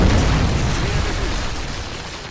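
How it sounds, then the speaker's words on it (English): Predator missile explosion in Call of Duty Modern Warfare 3 multiplayer, a loud close blast with a rumbling roar that slowly fades over about two seconds. "Friendly predator missile inbound."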